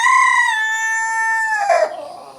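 A single rooster-like call from a chicken, drawn out and harmonic, trails off into a short rough squawk near the end; close and fairly loud.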